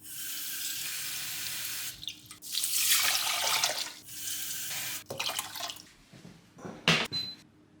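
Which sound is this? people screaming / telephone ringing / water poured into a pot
water poured into a pot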